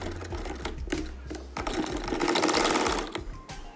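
Sewing machine stitching the fitting seam of ladies' trousers, a close, steady mechanical whir of rapid needle strokes that pauses briefly and then runs again.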